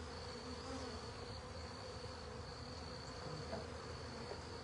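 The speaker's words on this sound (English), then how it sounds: "There's a drone buzzing and scares me." A drone honeybee buzzes at an open beehive during a spring hive check. The faint, steady insect hum carries on without a break under quiet outdoor background.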